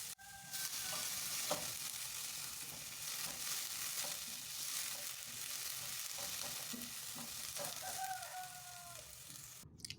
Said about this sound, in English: In my pan, I'm going to add some vegetable oil. Then I'm going in with my chopped onions. I will saute for a minute.